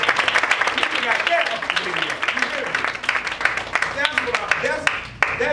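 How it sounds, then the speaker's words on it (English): An audience gives a round of applause, a fairly close burst of individual and overlapping claps with uneven rhythm, mixed with crowd voices and scattered talk. "Y'all give her a round of applause"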